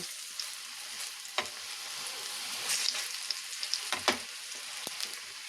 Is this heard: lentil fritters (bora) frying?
yes